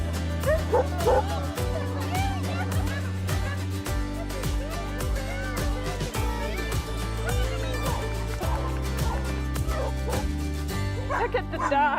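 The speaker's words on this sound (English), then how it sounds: "Look at the dogs, they're all over the place." Many stray dogs at a dog shelter bark, yip and whimper all at once in a loud, overlapping chorus, some close and some farther off, over a busy background.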